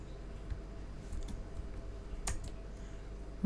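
Sparse keystrokes on a computer keyboard while editing an Apache2 config on an Ubuntu server, a few isolated clicks with one sharper tap, faint against a low background hum.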